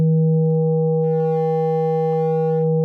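A steady sine tone runs through the Fracture audio effect, a pure hum that gains a buzzy halo of added overtones partway through and then holds, loud and alone.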